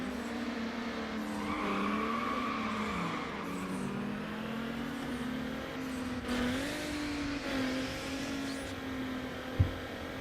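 Car engine drones and shifts pitch during a drag race in the video game Need for Speed Underground, with a steady held tone, brief squeals of tire noise and a short sharp knock near the end, with no one talking.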